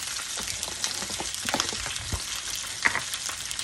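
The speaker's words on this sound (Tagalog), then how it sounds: "So, i-fry lang muna natin." Pieces of roast pork (lechon) fry in hot oil, producing a dense, loud, crackling sizzle with sharp spattering pops throughout, heard up close with no talking.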